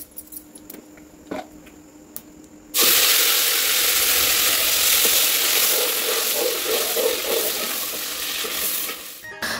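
Cumin, asafoetida and spices hit hot oil for chole, bursting into a loud, steady sizzle and crackle that carries on evenly after a quiet start with a few light kitchen clinks.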